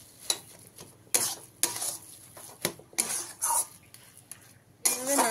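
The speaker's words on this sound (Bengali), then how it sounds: "এইভাবে নাড়তে নাড়তে আপনারা যখনই দেখবেন যে কড়াইতে এইভাবে বসতে শুরু করেছে" A spatula scrapes and knocks against a wok while mashed cabbage is stirred, making irregular clanks and scrapes a few seconds apart over a faint sizzle.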